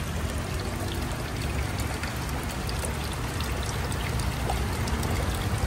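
Spring water is poured in a steady, loud, close stream, splashing continuously in an outdoor setting, with no talking.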